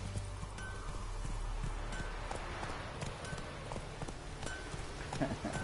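Steady clip-clop of horse hooves at a gallop in The Witcher 3: Wild Hunt, close and continuous, with a rushing outdoor background.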